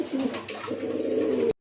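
A pigeon, one of the local and foreign birds in a market stock that includes Lahori and Bombai breeds, coos close by in a soft, throaty warble that rises in two short bursts before cutting off.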